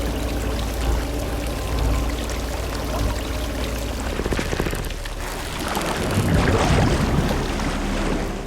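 Water flowing and pouring steadily in a flooded basement during a film scene, a continuous loud rushing wash that swells louder toward the end.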